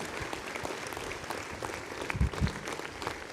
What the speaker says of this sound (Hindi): जोरदार तालियां मिस्टर PL मीणा, आइए इधर